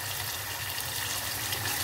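Water is poured into a tomato-based sauce mixture for a Turkish köfte çökertme kebab, a steady close rushing pour heard alone with no talking.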